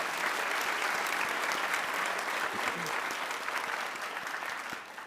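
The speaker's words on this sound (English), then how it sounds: "Let's give another big round of applause to the new Pacer Singers and the UTM Wind Ensemble." A large audience at a university's 125th anniversary celebration applauds a choir and wind ensemble, a dense, sustained wash of clapping that holds steady for the whole stretch and eases slightly near the end.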